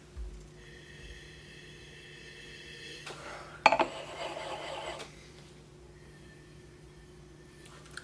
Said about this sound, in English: Sniffy sniff time!